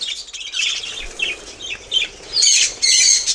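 A large flock of budgerigars in a breeding aviary chirps and chatters loudly and close by, with overlapping bursts of high twittering that swell toward the end.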